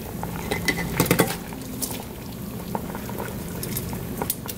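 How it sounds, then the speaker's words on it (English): Shrimp tipped into a simmering seafood gumbo pot with crab legs, giving a soft patter and light splashes over steady bubbling, with a few clinks of the pot close by. "after we let it cook with the crab legs, now we go ahead and add our shrimps"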